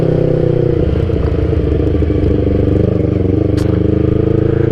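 Yamaha YZF R25 motorcycle on Michelin Pilot Street tyres, ridden on a Saturday night: a steady, loud, close engine drone with continuous road and wind rumble and no talk.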